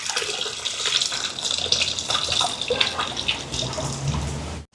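Tamarind water pours into a fish curry during cooking, a continuous close splashing and trickling of liquid that ends abruptly.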